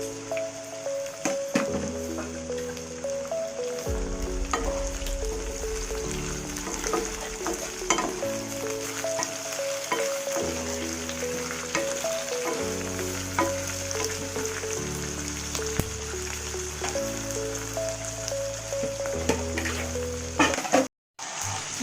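Chopped capsicum fries in a pan for a baby corn manchurian, a constant dense sizzle with occasional stirring scrapes under steady background music.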